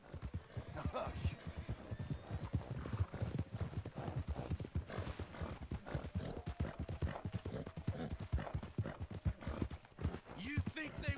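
Horse hooves in Red Dead Redemption 2, a steady rapid clip-clop of a riding horse going on throughout, close and even, with a character's voice talking over it.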